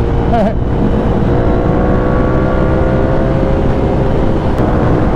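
A 2014 Ducati Monster 696 motorcycle engine drones steadily and loud while riding, with wind rush and a brief rise in pitch near the start.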